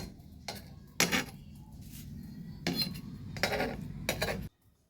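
A ghee-greased knife presses and scrapes around the edges of a carrot pitha in a pan, giving several short, close clinking scrapes in separate bursts with quiet gaps between them and no voices.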